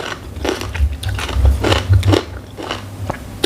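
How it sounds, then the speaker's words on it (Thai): Crisp skin-on pork belly, salt-grilled and eaten with homemade kimchi, crunches under several close, loud bites in an irregular chewing rhythm, with no talking. "หมูสามชั้นแบบมีหนัง ท านกับกิมจิ"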